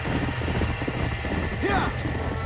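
Horses trapped in a burning barn in the video game Red Dead Redemption: steady hoof clatter and stamping under dense background noise, with a brief strained whinny rising midway, a voice faintly mixed in.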